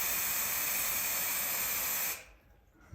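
One Shot aerosol insecticide from Pest Interceptors is sprayed at a wasp nest in a loud, continuous hiss that cuts off abruptly after about two seconds, followed by quiet.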